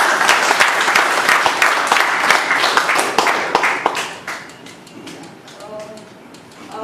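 Audience applause at a speech club meeting: a steady round of many hands clapping, fairly close, tapering off over the last few seconds as a voice begins.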